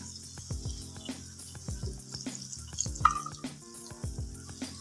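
Chicken liver frying in a spiced masala in a pan, a quiet steady sizzle broken by soft scraping and stirring knocks, close and unhurried, no talking.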